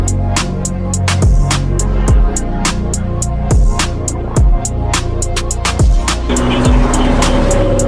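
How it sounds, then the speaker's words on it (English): Several Pininfarina Battista electric hypercars and a Ford GT roll past at a car week gathering, a steady stream of close, loud passes with repeated sharp thumps as each car goes by. "like 5 of the Pininfarina electric hypercars just rolled by and a Ford GT"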